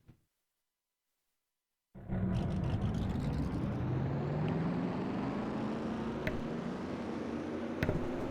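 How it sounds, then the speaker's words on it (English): Race car engines fire up together for the Sprite Challenge at Lime Rock Park in a racing video game. After about two seconds of silence a dense, loud engine roar bursts in and holds steady, rising slightly in pitch. "Let's get the command to fire engines for the Sprite Challenge at Lime Rock Park."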